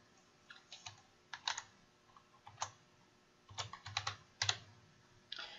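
Quick, close clicking of keys on a computer keyboard, in uneven bursts and short pauses, quiet and alone without any voice.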